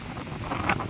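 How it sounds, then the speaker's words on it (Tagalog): Strong wind buffets the microphone outdoors, a loud, rough, gusting roar filling the short moment. "Sobrang ang hangin mga tiyo."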